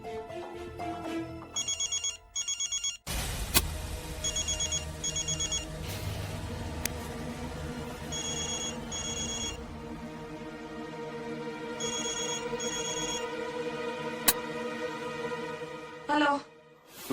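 A telephone rings with a repeated electronic ringtone, loud bursts in a steady on-off rhythm over background music, in a domestic drama scene.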